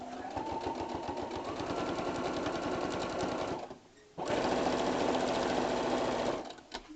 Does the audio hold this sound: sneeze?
no